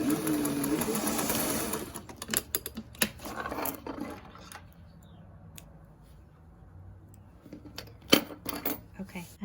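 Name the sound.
sewing machine back tacking a face mask pocket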